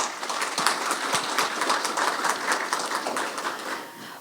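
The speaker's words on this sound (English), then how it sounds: "Let's give a big round of applause to ATA for making this platform possible." Audience applause at a real estate business summit: a modest crowd claps steadily for a few seconds, individual hand claps audible in the mix, fading out toward the end without voices.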